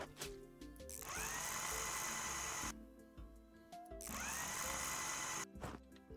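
Power drill driving screws in two sustained whirring bursts of about two seconds each, close and fairly loud, separated by short pauses.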